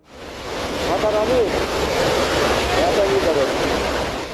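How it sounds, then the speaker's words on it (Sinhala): Heavy floodwater in India rushing after torrential rain, a loud, dense, continuous roar of moving water with wind buffeting, and brief voices faintly heard underneath. "අධික වර්ෂාවත් එක්කම ඇති වුණ විශාල ගම් වතුර හින්දා බලන්නකො වෙලා තියෙන දේ"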